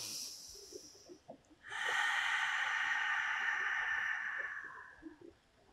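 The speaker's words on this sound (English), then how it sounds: "Take a moment for two sets of deep inhalation and exhalation." During a Pilates mat session, one slow, deep breath sweeps through the room. A long, loud, airy exhale lasts several seconds, with quieter breathing before and after it.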